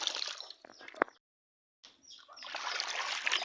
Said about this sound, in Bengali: শাকটাকে এভাবে চার পাঁচবার আমি ধুয়ে নেব